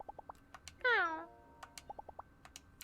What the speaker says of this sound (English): We always take time out to pet the cat.